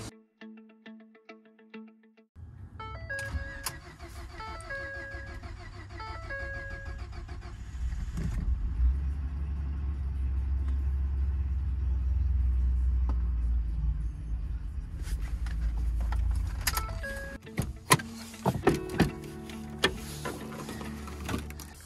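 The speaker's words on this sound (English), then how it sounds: "she keeps on cranking, and then finally after a few seconds she starts running" A Ford F150 with the 3.5 V6 EcoBoost turns over on the starter for several seconds, cranking rhythmically before it finally fires and settles into a running idle, close and fairly loud.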